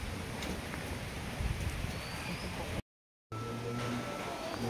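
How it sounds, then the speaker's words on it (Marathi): Steady rain falls at a Dattatreya temple in a downpour, giving a constant broadband hiss with faint patter that cuts out briefly midway and then resumes unchanged, with no talking. "आत्ता पण पाऊस चालू झाला."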